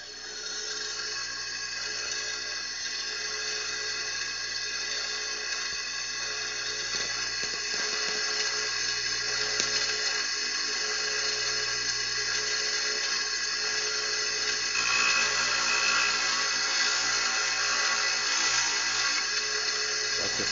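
A grinder sharpens a blade that is cooled with water, a steady high-pitched whine running continuously for around twenty seconds with slight variations as the metal is worked.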